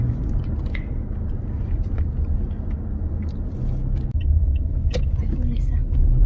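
A motorbike rides along a road near the Hongsa camp area in Xayaboury, Laos, giving a steady low engine rumble with wind noise and occasional faint clicks throughout.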